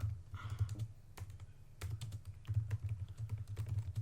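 Fast typing on a computer keyboard, a dense rapid run of close, crisp key clicks with brief pauses, over a low steady hum.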